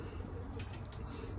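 Breeder racing pigeons make a soft, continuous cooing murmur at close range in a loft, with no voices over it.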